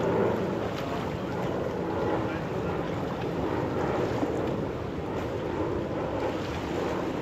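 A boat with a 70 horsepower motor at a beach, heard as a steady low rumble mixed with surf, wind and microphone buffeting, continuous and fairly loud.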